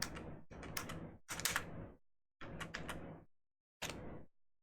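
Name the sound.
computer keyboard typing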